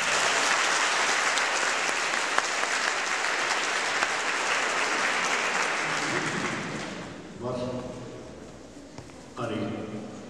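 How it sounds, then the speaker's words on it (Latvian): Audience applause at a 2011 Daugavpils city ceremony honouring olympiad laureates in a concert hall, steady dense clapping filling the room for about seven seconds, then fading and breaking into scattered bursts with a voice speaking between them. "tie, kuri tagad sēž zālē ar aplausiem, es domāju, pateiksimies vispirms saviem skolotājiem"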